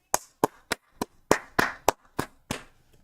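Hand clapping: about nine sharp, close claps in a loose, fairly even rhythm, each a crisp slap with a short decay and silence between.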